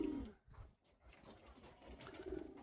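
Pigeons in a home loft coo softly, low throaty rolling calls repeated through the moment at moderate distance, fairly quiet and unaccompanied by talk.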